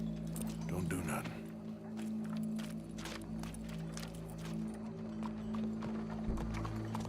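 A horse's hooves clip-clop at a steady walking rhythm in the Red Dead Redemption 2 video game, with a low game ambience humming underneath.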